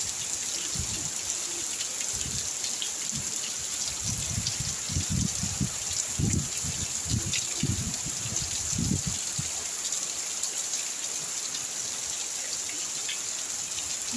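Heavy rain pours down in a steady, even hiss across the whole stretch, with a few low thumps and faint murmurs beneath the constant downpour.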